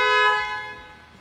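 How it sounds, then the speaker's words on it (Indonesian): A single 2025 Nissan X-Trail horn honk, sounded from the key fob, loud and close, a steady tone that fades out over about a second. "ini untuk bunyiin klakson"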